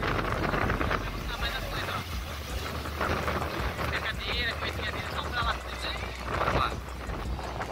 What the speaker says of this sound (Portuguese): Pode ser que esse vídeo fique barulhento porque tá muito forte o vento.